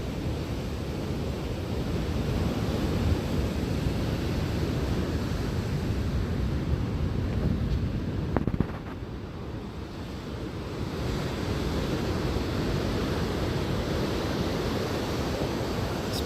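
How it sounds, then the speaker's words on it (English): Ocean surf at Jennette's Pier beach in Nags Head, North Carolina, rolls as a continuous loud broadband wash mixed with wind buffeting the microphone, steady throughout with a slight dip midway and no talking. "here's one last look at the beach."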